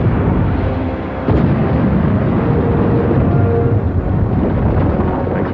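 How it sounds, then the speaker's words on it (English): A loud cartoon explosion bursts inside a silo, a sudden boom around the one-second mark followed by a sustained roaring rumble that fills the rest of the moment without letup. "Explosion!"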